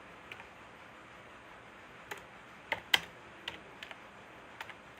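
Sparse keystrokes on a computer keyboard, a handful of light clicks and taps scattered irregularly over a quiet hiss, close but faint, without speech.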